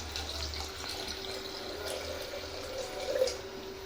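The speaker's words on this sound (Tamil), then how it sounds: "புளி தண்ணியை நான் ஊற்றிக்குவேன்." Tamarind water poured into a pot for tomato rasam, a soft, steady trickle of liquid at close range that swells briefly toward the end.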